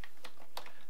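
Keystrokes on a computer keyboard, a few short separate taps spread across under a second, near and fairly quiet with no talk.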